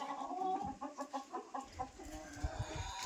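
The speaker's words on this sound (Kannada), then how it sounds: "ಇಲ್ಲಿ ನೋಡ್ರಿ ಕೋಳಿ ಕುರಿ ಎಲ್ಲ ಒಂದದಾಗೆ ಹಾಕ್ಯಾರ ನೋಡ್ರಿ" Several chickens kept together with sheep cluck nearby in short repeated bursts, with a low rustling and shuffling underneath.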